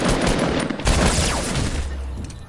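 Rapid bursts of SMG fire in a Fortnite Battle Royale match, loud and sustained with dense crackling shots over about two seconds before thinning out.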